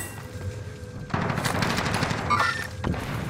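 Rapid automatic gunfire in a battle royale video game bursts in after a quiet start, a dense, loud rattle of shots that keeps going to the end.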